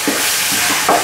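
Chicken stir-frying with chopped basil and green onion on a road grill, a close sizzle under a few scraping stirs of the spatula.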